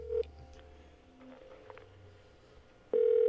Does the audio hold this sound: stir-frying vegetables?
no